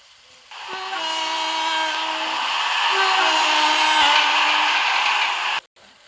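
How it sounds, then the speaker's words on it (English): A Class 350 electric train in the game Ro-Scale Railway passes a station platform, a loud sustained rumble with a horn-like tone that rises, holds for about five seconds, then cuts off abruptly. "We have a Class 350 full car about to pass."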